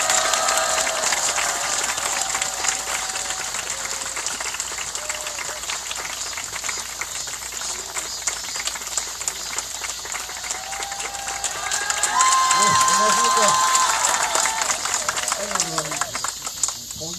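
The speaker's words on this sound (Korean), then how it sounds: "큰 박수로 맞이해주시기 바랍니다." A crowd at an outdoor peace rally in Soseong-ri claps to welcome a village head to the stage. The dense applause runs throughout and swells near the end, with voices mixed in.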